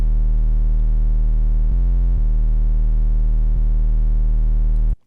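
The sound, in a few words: distorted 808 bass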